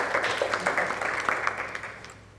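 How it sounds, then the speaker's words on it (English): Clapping from an audience at an organisation's town hall meeting, a scattered, patchy round of claps at moderate volume that gradually fades, with faint voices underneath. "I think we all deserve a round of applause"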